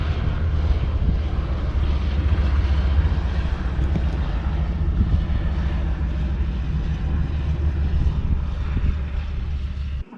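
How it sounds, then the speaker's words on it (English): Steady low propeller-engine drone from small planes landing on a short runway by the sea in Greece, a continuous broadband roar with wind buffeting, fairly close and loud throughout before cutting off abruptly at the end. "we've just seen a couple of tiny planes land"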